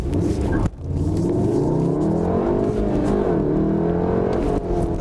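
A Volkswagen Golf R launches hard with a manual gearbox and traction control off. Its engine roars loudly from close range, rising in pitch through the revs, with brief dips at the gear changes.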